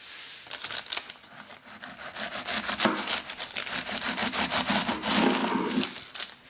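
Serrated bread knife sawing through the edges of baked puff pastry for mille-feuille, a steady run of rapid, crisp rasping strokes with flaky crackle, close and fairly loud, no talking.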